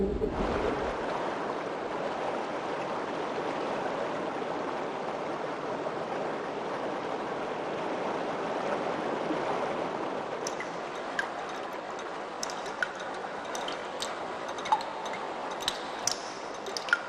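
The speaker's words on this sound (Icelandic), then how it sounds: "Þaðan sígur lindavatnið sem víða kemur fram í gjánni." Spring water seeping and flowing through a narrow gorge in Þórsmörk, Iceland, near a glacier, with a steady broad rushing wash and a few sharp drips and splashes toward the end.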